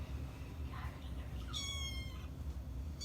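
Kittens meowing from a YouTube video playing back, a couple of thin high-pitched mews heard faintly over a low background hum, with no speech.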